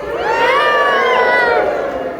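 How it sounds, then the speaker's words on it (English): A crowd of audience voices at Monterey Bay Aquarium cheers and calls out hello together, a loud, sustained mass of overlapping shouts lasting about two seconds. "give her a big cheer and a big hello"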